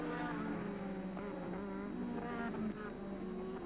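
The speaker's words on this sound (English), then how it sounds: "Prost, just gradually and deliberately in the McLaren with the V6 tag engine designed and built by Porsche, working up to racing speed" A 1986 McLaren Formula One car with a Porsche-built TAG V6 turbo engine drones steadily at the Hungarian Grand Prix qualifying, its buzzing engine note rising and falling in pitch and heard continuously at moderate distance.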